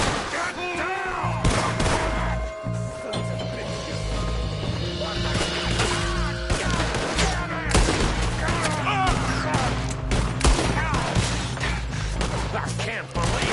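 Gunshots in Red Dead Redemption 2, a dense, chaotic exchange of fire with repeated loud cracks and booms, layered over game music and scattered character voices.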